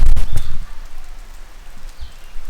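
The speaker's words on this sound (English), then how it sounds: "that wall is raining water. It's really cool. It's coming right through the granite, raining right down." Water rains down through a granite gorge wall as a steady, soft hiss of falling drops. A few low bumps of handling sound come near the start.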